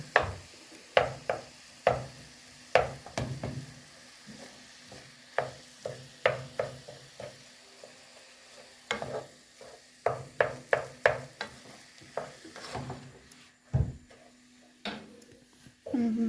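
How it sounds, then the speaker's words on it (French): Ground meat for lasagne searing in a pan while constantly stirred to keep it from clumping, with a soft steady sizzle beneath regular close scraping strokes of a utensil against the pan, no talking. "jusqu'à ce que la viande soit, elle commence à saisir. Et on la remue tout le temps de façon à ne pas faire de bloc"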